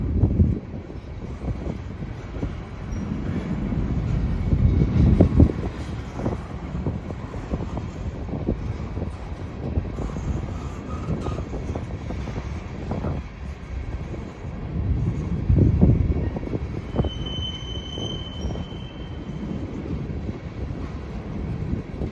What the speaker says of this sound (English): If I get blocked by this train,